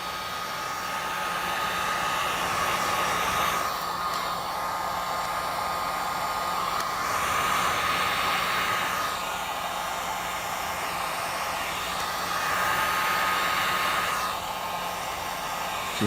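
A heat gun blows hot air over gloss black vinyl wrap on a car roof, giving a steady, close, breathy rush of air with slight swells in loudness and no talking.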